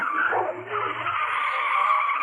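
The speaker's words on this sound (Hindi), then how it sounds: "चल भाई जल्दी से गाड़ी पीछे ले ले।" A car reverses with its tyres skidding, giving a loud, sustained squeal that holds steady for a couple of seconds under a low engine rumble.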